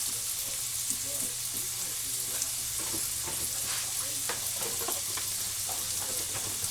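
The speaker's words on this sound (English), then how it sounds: "I'm going to add some oil to this pan." Oil hits a hot pan as crispy pork chops get going, giving a steady sizzle and crackle with faint pops, moderately loud and close.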